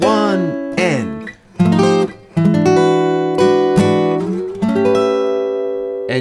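An electric guitar plays a slow blues turnaround lick, ringing notes and bent strings in a loose rhythm with sustained tones, close and clear.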